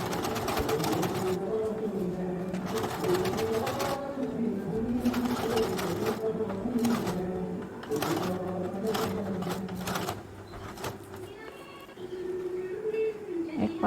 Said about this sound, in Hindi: मैंने यहाँ डबल सिलाई लगा रही हूँ।